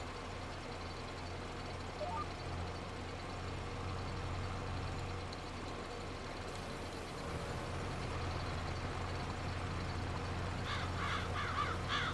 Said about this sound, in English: No, the crows are gonna get run over.